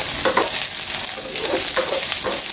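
Garlic sautés in a pan for pork afritada, a loud close sizzle with repeated stirring scrapes at a loose rhythm.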